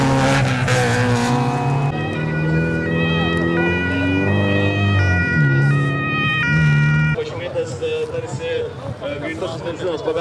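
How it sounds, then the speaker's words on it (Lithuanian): An ambulance siren wails in rising and falling tones at a rally racing event after a crash. It sounds loud and near, over a rough background of engine and crowd noise. "Greitosios medicinos pagalbos tarnybos transporto"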